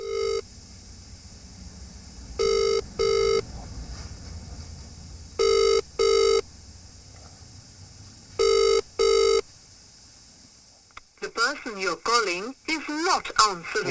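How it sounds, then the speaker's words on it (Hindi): An outgoing phone call rings unanswered, four paired ring bursts at even intervals over a faint line hiss, then a voice starts talking near the end. "ये अभी तो फिलहाल फोन नहीं उठा रहे हैं"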